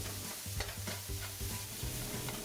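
Beaten egg stir-fried with diced carrot and cucumber in oil over medium heat, with a steady crackling sizzle and the repeated scrape and clack of a spatula turning the food in the pan, no voices.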